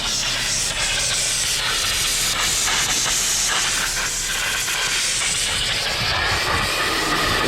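Steady, loud pressurized hiss from a car engine's cooling system after a head gasket sealer treatment, a continuous broadband rush with a faint mechanical rumble beneath, unbroken for the whole stretch.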